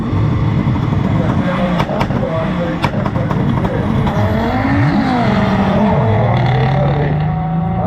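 A Volkswagen Golf 3 race car passes at a motorsport event in Vilshofen, its engine note rising and falling against other revving cars and tire noise, while a commentator talks over it loudly throughout.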